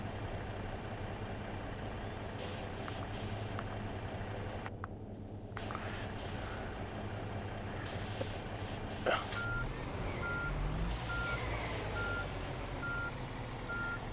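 A truck in the On The Road truck simulator game sounds a string of evenly spaced reversing beeps over a low idling engine rumble that runs the whole way through, at a moderate distance.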